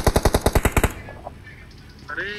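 A rapid burst of about nine machine gun shots in the BGMI video game, then quieter in-game sounds and a brief electronic tone at the end.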